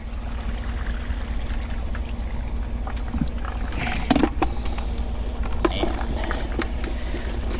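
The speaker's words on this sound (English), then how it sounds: "Dump out the lake water." Lake water is dumped out of a bait container, a steady splashing pour and trickle with a few sharper splashes, close by and fairly loud.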